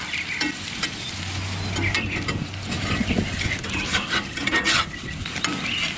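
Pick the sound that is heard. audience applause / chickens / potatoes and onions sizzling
potatoes and onions sizzling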